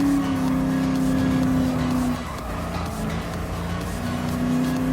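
A car in the Gran Turismo Sport game, at a Nostalgic Car Festival race, drifts sideways through a turn, its engine droning steadily with a brief dip mid-turn and faint tire scrub, loud and continuous with no talk.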